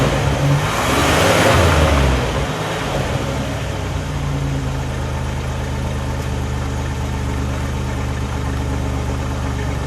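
A 1979 Buick LeSabre Sport Coupe's 3.8 litre turbo engine revs up loudly at close range, surges for a couple of seconds, then settles back into a steady, low idle.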